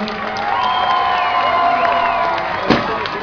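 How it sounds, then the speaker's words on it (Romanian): A crowd at a parachutist display in a town centre claps and cheers loudly, with whoops and whistles rising above the noise and a sharp burst near the end. "Haideți să aplaudăm, să facem gălăcie mare!"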